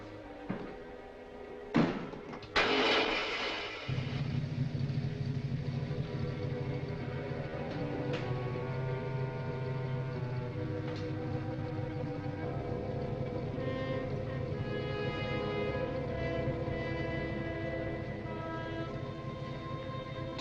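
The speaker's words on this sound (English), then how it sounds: "Start the motor." A car motor starts after a couple of thumps and a slam, then settles into a steady low droning hum that runs on unbroken.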